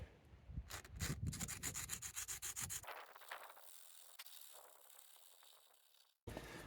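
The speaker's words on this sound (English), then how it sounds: "So now I've got the 180 grit. So let's try and get it a bit smoother." Sandpaper of 180 grit rubs rapidly back and forth over body filler in a rust hole on a car, making loud rhythmic rasping strokes that fade into quieter scraping before a brief pause.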